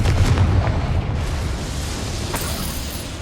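The Confringo fire spell goes off in Hogwarts Legacy as a loud, booming blast that rumbles and then tails off into a fading roar over a few seconds.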